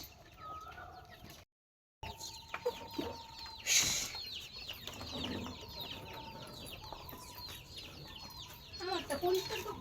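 Farm chickens cluck and call continuously at close range, with some wing flapping and faint human voices in the background.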